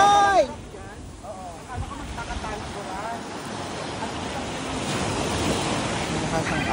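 Ocean surf and a strong, cold current churn steadily near a beach in Boracay, with wind buffeting the microphone throughout and voices talking over the rushing water.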